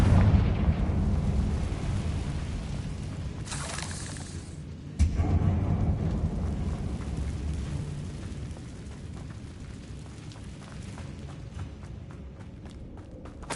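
A Confringo blasting spell in the Hogwarts Legacy video game, a loud booming burst that rolls into a long rumbling decay, with a second sharp blast hit around midway.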